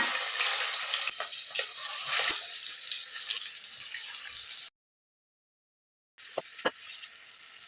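Marinated prawns frying in hot oil in a home kitchen, a steady broad sizzle with scattered crackles and pops, cut by a brief silence partway through before the sizzling resumes.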